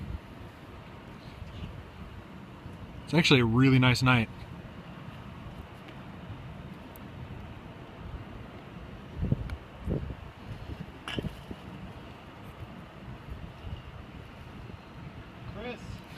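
Gusty wind buffeting the microphone in a low rumble throughout, over 200 feet above a football field in Lincoln, with a person speaking briefly near the start and some scattered knocks.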